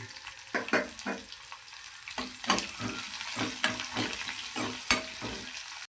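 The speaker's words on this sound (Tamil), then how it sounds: "எல்லாம் ரெண்டுமே போட்டு வதக்கி எடுத்துக்க போகிறோம்" Garlic and small shallots sauté in a pan for a yellow pumpkin poriyal, giving a steady sizzle with repeated scraping stirs of a spoon against the pan, close and moderately loud, with no talking.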